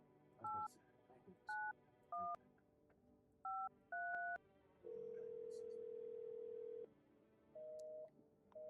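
Touch-tone keypad beeps in a video game phone call: several short paired dialing tones in an irregular rhythm, then a long steady ringback-style tone and two more brief tones, clear and fairly loud over a quiet room background.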